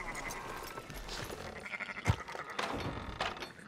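Sheep bleating in the video game Red Dead Redemption 2, a few moderate calls mixed with ambient farm noise and a soft thump midway.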